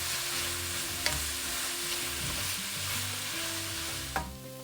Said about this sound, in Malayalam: ഒരു 1/2 ടീസ്പൂൺ ഉപ്പ്, 1/4 ടീസ്പൂൺ മഞ്ഞൾപ്പൊടിയും ചേർത്ത് നന്നായിട്ട് വഴറ്റുക.